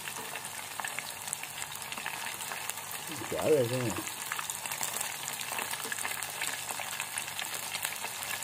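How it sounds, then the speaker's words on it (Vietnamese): Small fish coated in batter frying in a pan of hot oil at home, a steady crackling sizzle throughout with a brief louder flare midway, while a person talks over it. "Rồi chiên cá thôi"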